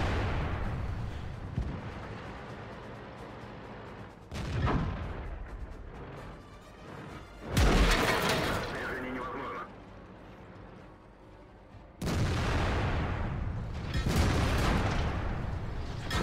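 Tank cannon shots in World of Tanks, with a heavy IS-6 tank in the battle: several loud booming blasts with sharp onsets, each followed by a rumbling tail over continuous battle noise.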